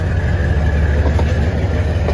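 A passenger train on the way to Lahore pulls away from the platform, a loud, close low rumble with faint rhythmic clacking building under it, heard alone for a couple of seconds.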